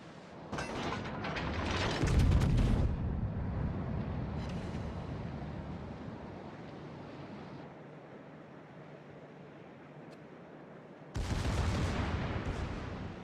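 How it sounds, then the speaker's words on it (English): Secondary guns on a low-tier battleship, the Giulio Cesare, open fire in World of Warships in a dense mechanical barrage of rapid shots, loudest early and again in a final burst after a quieter rumbling stretch. "secondaries are opening up"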